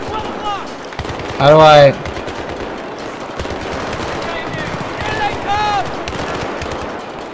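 Gunfire in Battlefield 3 rattles as dense, steady automatic shooting throughout, under a player's voice talking and a brief loud tonal in-game alert.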